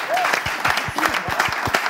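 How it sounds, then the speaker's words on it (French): An audience bursts into applause at a live event, a dense wash of many hands clapping with sharp individual claps standing out, steady and close. "faisons leur un tonnerre d'applaudissements."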